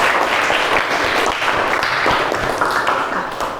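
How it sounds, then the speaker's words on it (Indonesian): Classroom applause from students during a classical guidance lesson on self-efficacy, a dense, steady burst of many hands clapping at close range for several seconds, loud throughout and tapering slightly at the end. "Kasih aplaus temannya."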